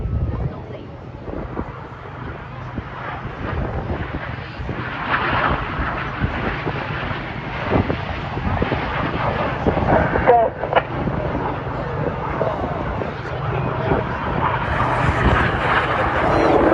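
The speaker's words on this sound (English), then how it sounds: "Each aircraft will form a barrel roll, followed by a cross, a second barrel roll, in a manoeuvre simply called the double roll." Display jets of the Red Arrows flying a double roll manoeuvre at the Blackpool air show, a steady broad roar of jet engines sustained overhead with wind buffeting the microphone throughout.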